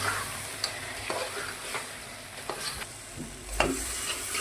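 Spoon stirring turmeric, chili powder and salt into a sizzling mixture in a pan, with scattered scrapes and clicks over a low, steady fry, close and moderately quiet.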